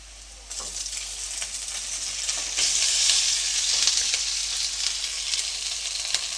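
Cooked rice is stirred into a sizzling tempering in a pan for pepper rice, giving a steady, close frying hiss with scraping stir strokes that swell in the middle, without any talk.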